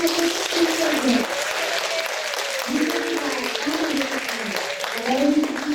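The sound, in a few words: applause for a child at an event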